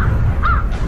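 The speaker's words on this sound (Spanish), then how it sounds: "Los cuervos ya vienen." A single crow caws once, a short rising-and-falling call standing out over a steady low rumble of background noise.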